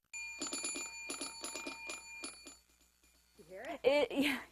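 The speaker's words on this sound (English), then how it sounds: "then you got to check out the snoozer's worst nightmare alarm clock. Listen to this thing." A Ramos Nixie alarm clock rings in several loud bursts of rapid, bright electronic beeping separated by short pauses. A person then talks close by.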